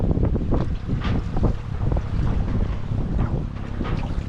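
Strong sea waves churn around a boat out at sea near a fish corral, a loud, continuous roar of wind and water buffeting the microphone with no talking.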